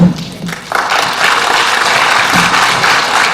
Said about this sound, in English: applause is not allowed